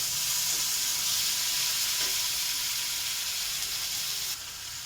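Cumin, ginger and green chili frying in hot oil give a steady, close sizzle and hiss, with faint stirring scrapes of a spoon in the pan, no voices.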